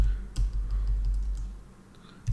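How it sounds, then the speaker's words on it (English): Keystrokes on a computer keyboard entering a router interface IP address, a handful of light clicks with one sharper tap near the start and another at the end, close and quiet, with no talk. "simply type out the IP address"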